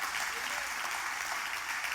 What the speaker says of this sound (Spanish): Dale un aplauso a Dios porque sabes que Él te levanta